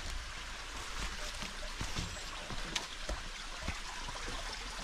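A stream flows beside a hiking trail in a park, a soft, steady trickle and rush of water with faint taps, heard alone and fairly quiet.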